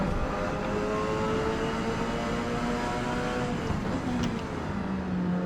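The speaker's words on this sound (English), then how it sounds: "Lots of really iconic race cars in the sim." A Toyota GTP race car engine in Forza Motorsport drones at high revs at Road America, its pitch climbing through gear changes, steady and loud with a slightly synthetic, game-like tone and no voices.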